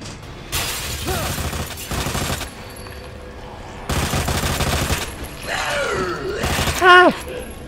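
Bursts of gunfire in the zombie shooter Resident Evil 2, fired in loud clusters separated by short gaps, with mechanical clanks and a voice talking in between.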